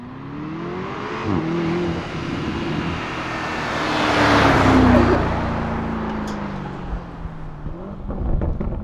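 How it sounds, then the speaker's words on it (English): A performance SUV's engine revs up and it launches hard using launch control, its roar rising and swelling as it accelerates away, then fading into a lower rumble. "right now we have the cars practicing their launch controls"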